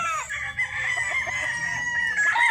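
A gamecock crows in one long, strained call close by at a game farm, with faint clucking in the background.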